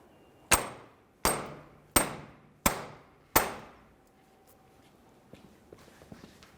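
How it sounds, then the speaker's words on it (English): Five sharp, evenly spaced bonks as a rubber mallet drives a new rear driver-side CV axle into the differential of a 2002–2005 Ford Explorer, close and clear, followed by a few faint light clicks. "we're going to continue on with a rubber mallet because you don't want to damage the new axle"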